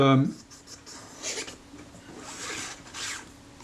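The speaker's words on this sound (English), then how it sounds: "I'm just using some naphtha here just to wipe all these surfaces down" Soft rubbing and wiping strokes from a cloth soaked in naphtha cleaning grime and oily deposits off the surfaces of a Vito B clarinet body, heard as faint, irregular swishes close to the microphone with no speech.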